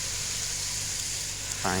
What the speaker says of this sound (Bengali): এগুলো একটু ভালোভাবে ভাজা দরকার